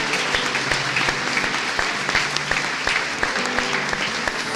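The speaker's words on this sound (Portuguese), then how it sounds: "Você pode aplaudir isso?" Churchgoers applaud after a woman's healing is celebrated: sustained, fairly close clapping with distinct individual claps popping out over a steady crowd wash.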